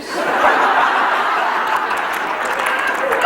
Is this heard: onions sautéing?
no